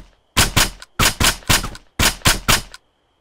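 Loud sharp gunshots ring out in a military video game, arriving as three quick paired volleys of close, punchy cracks separated by short pauses, then silence.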